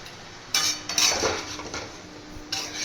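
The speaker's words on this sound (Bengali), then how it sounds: "এবার আমি সব কিছু ভালো করে মিশিয়ে নেব" Mixed fried rice stirred in a metal pan, with a few sharp scrapes and clinks of a utensil against the pan over a steady background sizzle.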